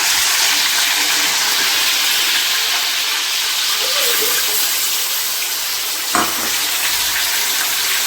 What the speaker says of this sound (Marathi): सो मी मसाला आता फोडणीला टाकते.